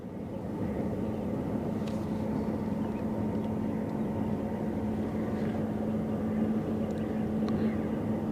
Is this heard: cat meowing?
no